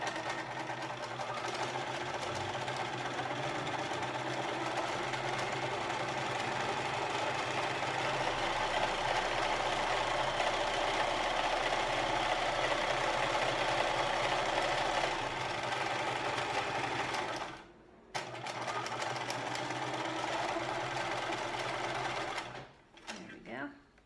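Sewing machine stitching a 1/4 inch seam to enclose a raw edge, a steady rapid mechanical whir running for about seventeen seconds, stopping, then briefly restarting near the end.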